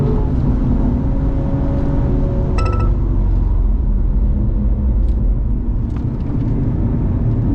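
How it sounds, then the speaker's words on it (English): A BMW M240 runs at full throttle on the Spa track, its engine a loud, steady, close roar heard from inside the car for the whole stretch. "And I'm back to full throttle on the exit."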